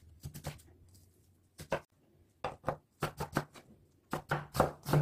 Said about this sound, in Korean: 이렇게 해서 파하고 양파를 다져놨어요.